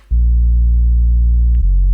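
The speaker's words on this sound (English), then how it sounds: "obviously you got that big old sub bass 808" A deep, sustained sub-bass 808 note booms steadily, with a brief dip near the end before it continues, loud and alone.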